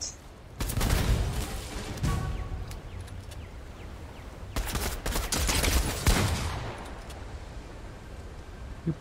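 Rapid bursts of automatic gunfire from Fortnite's Summer Escape update, loud and close, with two dense barrages separated by brief gaps and a few scattered single shots.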